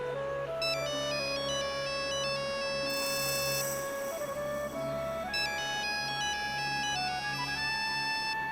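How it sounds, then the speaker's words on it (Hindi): A mobile phone ringtone plays nearby, a bright melodic electronic tune of repeating stepped notes that loops continuously and fairly loudly over a low background hum. "घंटी यहीं कहीं बज रही है।"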